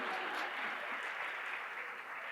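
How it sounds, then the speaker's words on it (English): An audience at a Harvard Business School Africa business event fireside chat claps, a thick, even burst of applause that stays level throughout with only slight fading at the close. "You can clap if you want."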